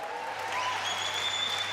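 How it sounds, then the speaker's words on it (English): An audience applauding at the 2017 NZ Open Championship, steady dense clapping that swells slightly partway through, with a faint tonal sound rising over it. "it's met with great support and applause and enjoyment from the entire audience here"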